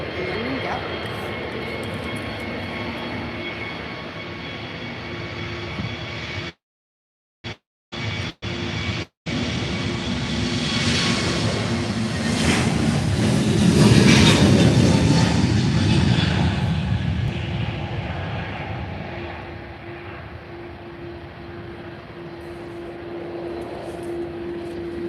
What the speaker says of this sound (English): So there goes Wizz Air